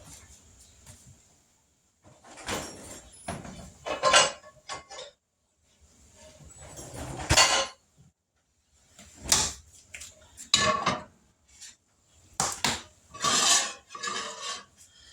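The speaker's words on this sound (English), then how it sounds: "let me grab my skillet" A skillet is pulled out from among pots and pans in a home kitchen, with several separate bursts of metallic clanking and scraping close by, split by short pauses.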